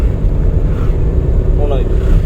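Car engine revving up under acceleration during a driving lesson, a loud steady drone with rising engine tone, heard under an instructor's close voice.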